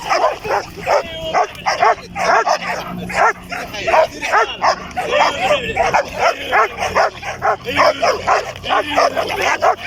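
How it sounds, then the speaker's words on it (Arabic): A dog barks repeatedly in quick bursts, with yips and whimpers mixed in, close by, while people talk in the background. "كلب المارين هو ديالي."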